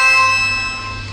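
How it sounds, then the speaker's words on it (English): A single bell-like doorbell chime rings out loud and close, its bright tones fading slowly over about a second with no voices. "Doorbell."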